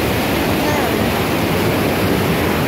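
Cascading waterfalls at a scenic natural spot roar as a steady, dense wash of rushing water, continuous and loud throughout with no pauses.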